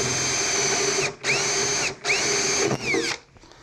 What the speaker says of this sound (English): Just using a 1/4 inch brad point bit.